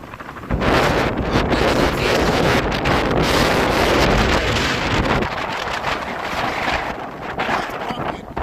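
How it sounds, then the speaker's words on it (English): Loud, continuous roar of lake surf pounding against a jetty in Chicago in November, mixed with heavy wind buffeting the microphone throughout; no clear speech. "I just want to get some footage of the waves crashing over this jetty here."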